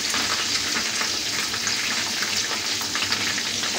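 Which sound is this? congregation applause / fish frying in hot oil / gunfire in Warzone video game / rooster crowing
fish frying in hot oil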